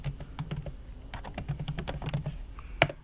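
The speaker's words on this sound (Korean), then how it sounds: "찾기 참조 함수라고 입력할게요" Keys clacking on a computer keyboard while entering text into an Excel spreadsheet, a steady run of close, crisp taps with short pauses and one sharper stroke near the end.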